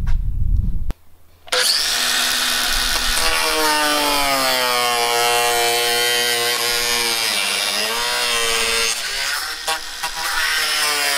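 A power tool cuts through a fibreglass bus visor in a garage, a loud, steady whining grind that starts abruptly after a brief pause and continues without letup, pitch shifting slightly as it bites.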